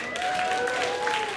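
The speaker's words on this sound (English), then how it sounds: "Applaud if you're in love." Stand-up comedy audience applauding in response to a comic's prompt, a steady wash of clapping over a short stretch with a faint tonal hum running underneath.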